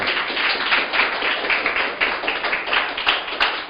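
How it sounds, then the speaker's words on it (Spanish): A church congregation claps together during a Spanish-language sermon, a dense, continuous patter of many hands at a quick, fairly steady rhythm, close and lively with no speech over it. "¡Aplauda al Señor!"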